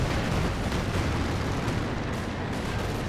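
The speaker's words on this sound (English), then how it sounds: "We have an airstrike coming on in. The anti-armor strafe coming out of the angle." Dense, roaring rumble of an anti-armor airstrike strafe hitting the ground in Company of Heroes 2, continuous and loud with no clear gaps.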